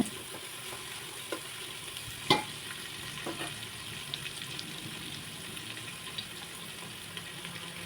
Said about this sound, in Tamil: நல்லா ஹை ஃப்ளேமில் வச்சு நல்லா வணங்க விட்டுருங்க